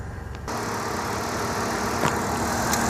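A Dodge Caravan minivan engine idles steadily at close range, a continuous low rumble with a faint ticking, starting abruptly after a brief quieter moment.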